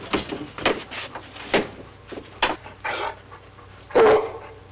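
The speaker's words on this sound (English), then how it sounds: "The dog, Mountie." A dog barks in short, sharp bursts during a tense indoor standoff in the Yukon, several barks spaced irregularly and fairly close, with a louder final bark over a low steady hum.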